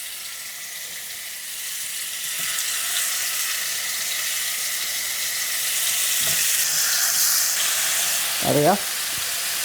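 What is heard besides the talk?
lamb chops sizzling in hot oil in a pan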